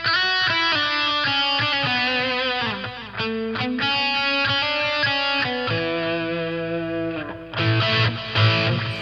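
An electric guitar plays a melodic lead through a Mooer GE300 effects unit with added reverb, sustained notes and quick runs ringing out clearly before a brighter, busier strummed passage near the end.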